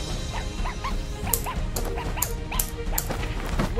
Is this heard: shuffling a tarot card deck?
no